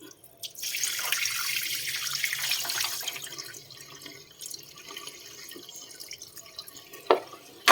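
Tap water runs steadily into a sink while fish is washed for fermented fish preparation, a continuous close hiss of flowing water with a few sharper splashes and drips toward the end.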